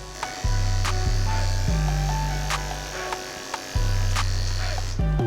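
Electric hair clippers with a 2 guard buzz steadily while cutting hair during a bald fade. The low drone shifts in pitch as the blades bite, with soft clicks and brief dips throughout.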